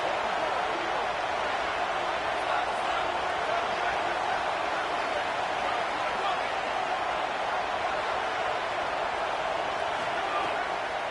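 A football stadium crowd roars steadily through a big third-down play, a dense, unbroken wall of cheering noise that holds at an even level from start to finish.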